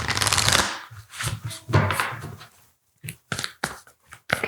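Oracle cards are shuffled by hand close up, giving quick riffling and sliding bursts with soft slaps and pauses between, fairly quiet and without talk.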